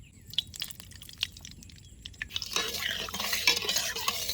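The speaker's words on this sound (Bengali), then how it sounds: "কড়াই গরম হয়ে গেছে, কড়াইতে সর্ষের তেল দিয়ে দেবো মাছের ঝোল রান্না করার জন্য।" Mustard oil poured into a hot wok for hilsa fish curry: a few light clinks at first, then a growing sizzle and crackle that swells and stays busy to the end.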